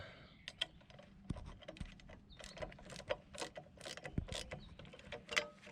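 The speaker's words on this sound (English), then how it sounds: "Take your 1/2 inch socket, 1/2 inch wrench, backside, and tighten it down." A 1/2 inch socket ratchet tightens a nylon lock nut on a campervan running board install, close, quiet rapid clicking strokes in uneven bursts with a couple of small metallic knocks.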